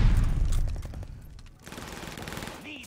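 Automatic gunfire and weapon sounds in the video game Call of Duty: Vanguard, loud and dense bursts at first, easing to quieter shots and mechanical clicks with a brief rising electronic tone near the end.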